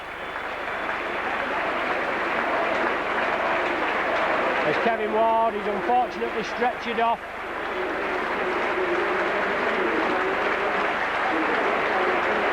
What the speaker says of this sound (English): What sympathetic round of applause.